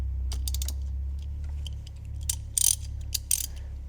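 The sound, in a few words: wrench loosening Polaris Ranger front differential drain plug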